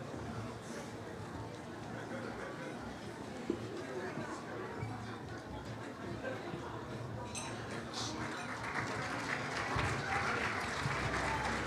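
Applause for a choir at a Celebration of Suburban Diversity event fills a hall, steady crowd clapping that swells louder toward the end, with voices and some clinking mixed in.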